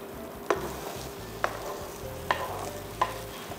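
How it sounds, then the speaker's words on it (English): Eggs pushed around a hot frying pan with a spatula: four distinct scraping strokes at irregular intervals over a soft, steady sizzle. "Push the eggs around so that the cooked bottom will come to the top and the uncooked eggs from the top will go down to the bottom"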